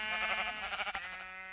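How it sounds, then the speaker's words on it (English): Sheep bleating in a video game, a single drawn-out wavering bleat, close and clear, cutting off sharply near the end with no talk over it. "Sheep, sheep, sheep. I found a sheep."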